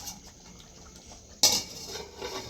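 A metal lid set down on a pot of Coorg-style mango curry in a kitchen after the gas is switched off, a single bright clank midway standing out over faint background clatter.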